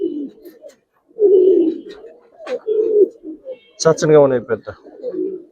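Giribaz pigeons coo in low, rolling bursts several times, close by, while someone talks over and between the calls in Bengali.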